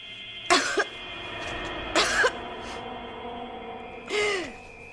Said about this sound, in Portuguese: Minha tosse já estava assim antes.